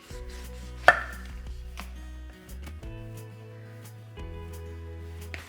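A knife cuts into a spaghetti squash on a board, giving one sharp, close thunk followed by softer scraping and knocking in a quiet kitchen with a low background hum.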